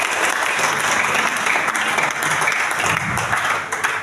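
Steady, dense applause from a large congregation at a church revival service, loud and unbroken for the full stretch with no voice standing out.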